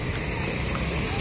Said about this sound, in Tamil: திண்டுக்கல் நகர்பகுதியில குதிரை வண்டியில ஒரு ரவுண்டு போயிட்டு வரலாம் வாங்க